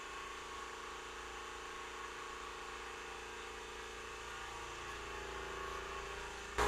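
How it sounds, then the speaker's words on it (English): A Stealth 20 gallon quiet air compressor runs steadily from about 25 to 30 feet away as a faint even hum that shifts slightly in tone near the end. "what we're hearing in the compressor"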